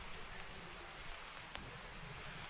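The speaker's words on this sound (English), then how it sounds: "because the first rain in like 2 months." Steady rain falling in the Tasmanian countryside, the first in about two months, a soft continuous hiss of drops on surfaces with a couple of brief sharper taps, no voices.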